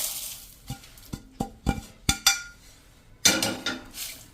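A series of sharp clinks and taps against a mixer-grinder jar as roasted whole spices for masala are tipped in, spaced irregularly, then a louder rattling scrape near the end.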